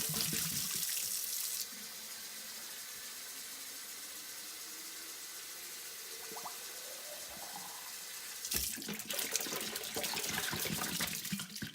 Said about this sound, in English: fill the bottle up with